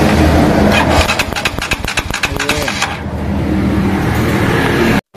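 Motorcycle engine cranked after the pulser and ignition coil were reconnected: a loud rapid train of starter pulses for about two seconds, then the engine settles into a steady running drone, with a voice speaking briefly.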